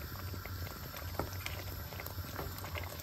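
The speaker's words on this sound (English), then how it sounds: "I'm just gonna leave it to boil for a minute" A pot of fish and chicken stew boils steadily, a quiet continuous bubbling with soft small pops, alone without talk.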